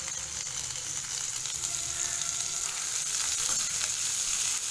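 Roughly chopped onion joins mushrooms frying in a hot pan, a dense, even sizzle that grows slightly louder over nearly five seconds, with faint stirring and no voices.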